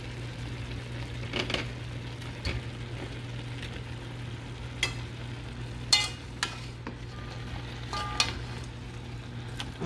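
Chayote, plantains and corn being added to a pot of chicken sancocho, heard as soft stirring and occasional clinks and knocks against the pot over a low steady hum, faint and close with no talking.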